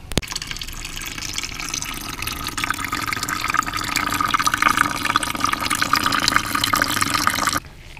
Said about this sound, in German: Da hinten tropft es noch in einen kleinen Becher.